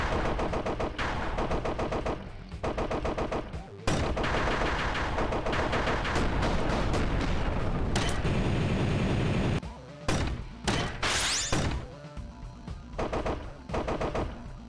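Rapid bursts of gunfire in the mech side-scrolling shooter MECHBLAZE, dense and loud with stuttering machine-gun volleys, a near-continuous stretch in the middle, then choppier broken bursts toward the end.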